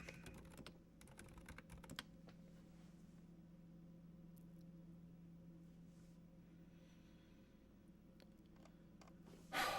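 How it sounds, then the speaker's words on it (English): Computer keyboard typing during a livestream, a quick burst of close, quiet clicks at the start that then thins into sparse keystrokes over a faint steady hum, ending with a short louder rustle. "Here, I'll type it in chat."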